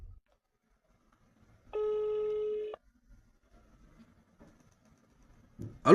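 A telephone call in progress gives a single steady electronic ringback tone lasting about a second, clear against near silence, followed by faint rustling and a short burst of noise at the end.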